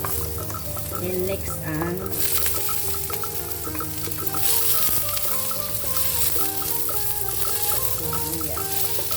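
Onion and garlic sizzle steadily in a frying pan, a constant close hiss and crackle with light stirring, while a person talks briefly over it and background music plays.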